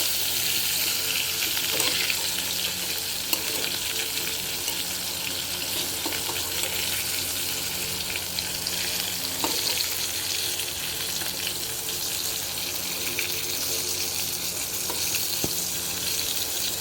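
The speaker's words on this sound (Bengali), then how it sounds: "চলো পটল ভাজাটা হোক।" Pointed gourd (potol) fries in a pan with a loud, dense, even sizzle that runs unbroken throughout, a few faint knocks and clinks scattered on top.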